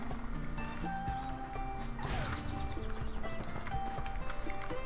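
Horse hooves clip-clop steadily in the online game ArcheAge, a quick rhythmic trot of light thuds mixed with game music tones and ambient effects.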